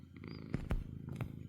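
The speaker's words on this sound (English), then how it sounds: "I don't know if you can hear him purring away." A pet cat purring very softly and close, a low quiet rumble with faint breathy pulses, alone without talk.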